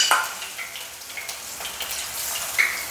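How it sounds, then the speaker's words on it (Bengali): Mushroom pakoras fry in a shallow layer of hot oil, giving off a steady, faint hissing sizzle dotted with a few small crackling pops, heard close with no talk. "আমাদের ভাজা হচ্ছে মাশরুম পকোড়া, আর এই ভাজছে এখন বিন্দু।"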